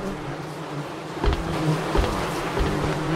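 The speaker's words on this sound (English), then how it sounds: "Sounds like bugs or something." Insects buzz steadily in a dark horror game scene, a low droning hum with a few louder swells near the middle, heard alone without talk.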